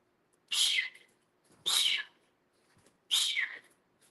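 A person imitates a baby cougar's breathy, high whistle-like call three times, each short burst separated by about a second of silence.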